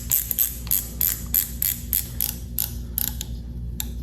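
Phone mount clamp tightened onto a garage tool cart bar, giving a run of repeated ratcheting clicks and creaks at close range, evenly spaced over a low background hum, with no talking.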